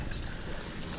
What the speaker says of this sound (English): This wind is getting up to around 25 miles per hour.